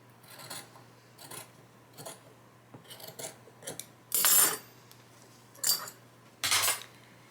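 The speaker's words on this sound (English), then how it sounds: "So I'm going to cut this off with my scissors at a 1/4 inch seam" Scissors snip repeatedly through quilting fabric, trimming a quarter-inch seam on a miniature quilt, a series of crisp rasping cuts close by, some short and a few longer, louder strokes, with no talking.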